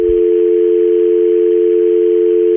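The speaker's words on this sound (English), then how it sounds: "just like you heard there, the dial tone" A steady telephone dial tone hums continuously and evenly for a few seconds, loud and clear with nothing else around it.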